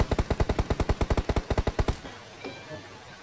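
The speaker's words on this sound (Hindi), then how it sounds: "फायरिंग कर दो दूर से तुम" Automatic gunfire in the mobile battle-royale game PUBG Mobile: a rapid burst of about twenty evenly spaced, punchy shots over two seconds, then a faint fading tail and quiet ambient noise.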